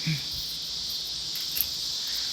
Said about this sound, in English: You guys hear those crickets and all the little insects